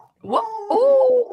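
Dogs vocalizing indoors at home, two close, loud whining yelps with a tonal, howl-like pull, over brief talking.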